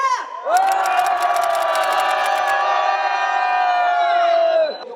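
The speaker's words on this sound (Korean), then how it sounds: "함성 시작!" A large crowd at a political rally roars in a sustained, loud cheer with shouting and whoops, swelling quickly and holding steady for several seconds before cutting off.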